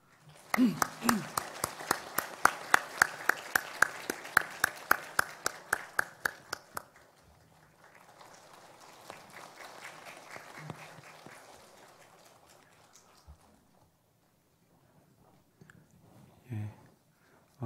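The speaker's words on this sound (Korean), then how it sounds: "우리 성도님들께 인사드릴 때 큰 위로의 박수를 한번 보내주시기 바랍니다." Church congregation applauding after a funeral, giving comforting applause during a Sunday service greeting: a burst of distinct claps for several seconds, then a softer, fading murmur of clapping and room sound.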